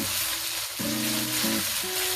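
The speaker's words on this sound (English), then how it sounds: "So if it's sizzling like this, turn the heat down to low or remove it from the heat" Panang curry spices sizzling in a hot pan for fried rice, a steady close frying hiss with short tonal squeals and stir noises breaking through, no one speaking.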